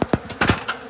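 Honey bees piling into a hive buzz in close, loud bursts as individual insects pass near, their wingbeats rising and fading in quick succession.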